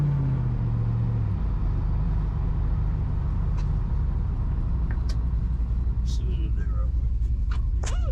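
A truck with a swapped 5.3 V8, fully warmed up, rumbles loudly and steadily as it revs for a burnout, with sharp high squeals breaking in near the end.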